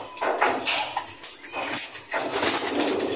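A racing pigeon entered in a race makes close bird sounds, soft coos and fluttering wing flaps in short bursts, with faint background noise and no clear speech.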